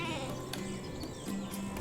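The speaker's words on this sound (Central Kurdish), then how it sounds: "بڕوانە ئەو بەرانانە." Rams bleat in a series of wavering, nasal calls, several overlapping bleats, fairly close and without talk.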